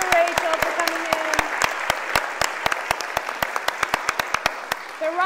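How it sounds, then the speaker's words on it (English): Audience at a literary festival clapping for an author: sharp, evenly spaced claps in a steady rhythm rather than dense applause, with voices briefly heard at the start and end. "A big applause for Rachael for coming in."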